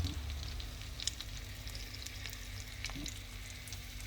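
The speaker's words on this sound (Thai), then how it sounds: "เอาไปทอดคุกๆไว้นะครับ" An egg frying in a pan over the flame, giving a steady, soft crackling sizzle with scattered tiny pops throughout and a faint low hum underneath.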